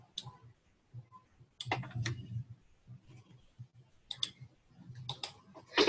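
A few quiet, sharp clicks of a computer mouse with soft taps in between, spread irregularly over a near-silent room.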